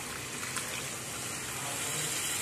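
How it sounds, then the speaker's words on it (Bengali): Water is poured into a pan of sea mourola fish curry masala, a steady, even gushing hiss that runs unbroken and close. "এর মধ্যে আমি এখন জল দিয়ে দেব।"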